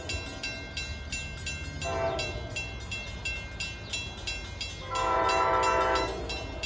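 Train 57, running from Hoboken to Port Jervis in northern New Jersey, rumbles past with rhythmic clacking wheels, and its horn sounds twice in loud sustained blasts over the continuous rolling noise.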